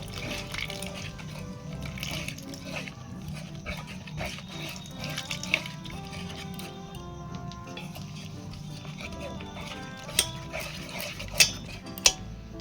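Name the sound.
water being poured into batter for cauliflower manchurian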